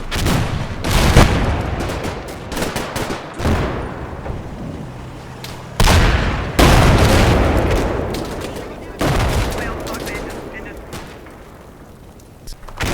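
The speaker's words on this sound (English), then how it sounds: "it takes a direct hit to the cupola" Tank shell striking the cupola of a Panzer IV in the wargame Combat Mission Final Blitzkrieg: heavy booming impacts and sharp gunfire bursts recur amid a dense battle rumble, loud and close, with voices at times in the mix.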